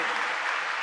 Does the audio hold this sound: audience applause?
yes